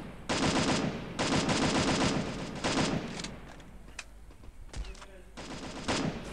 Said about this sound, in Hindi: यहाँ से कब से लगने लग गई गोलियां